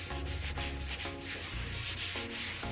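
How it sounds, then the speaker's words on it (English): Wet sanding on BMW car paint produces a steady, rhythmic rubbing and scratching, close and continuous with regular back-and-forth strokes and no voices. "And a lot of wet sanding."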